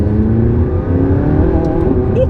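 McLaren 675LT supercar engine revving hard under acceleration, a loud continuous close-up roar with rising pitch and a slight whip-crack on upshifts, no talking over it.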